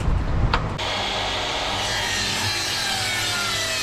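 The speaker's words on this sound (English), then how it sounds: "I set the mitre saw to 15 degrees, and that has cut my angle perfectly" Mitre saw set to 15 degrees cutting through wood: a brief knock, then a steady whining motor and cutting hum that carries on to the end.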